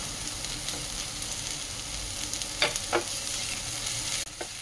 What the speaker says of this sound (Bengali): এখন দিয়ে দিচ্ছি কাঁচা লঙ্কা, এখন দিয়ে দিচ্ছি টমেটো